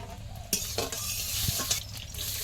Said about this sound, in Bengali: এই লঙ্কা কটা দিলে হ্যাঁ একটু পাঁচফোড়ন দেবো তেলের মধ্যে